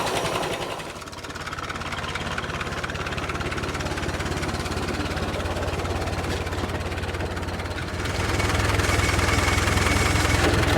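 A 1917 International Motor Truck Model F engine idles at about 500 RPM, a steady, close, low throbbing rumble that holds even for most of the stretch, then swells louder near the end.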